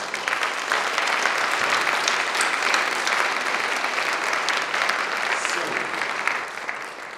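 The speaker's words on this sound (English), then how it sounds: "So I think a big round of applause." Sustained applause from a congress audience, a dense, even wash of clapping held at a moderate level from start to finish.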